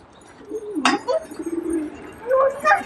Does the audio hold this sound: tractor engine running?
no